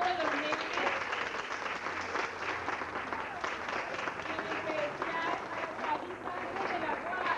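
Applause from a school event audience cheering for children, steady dense clapping from a crowd mixed with some scattered voices throughout.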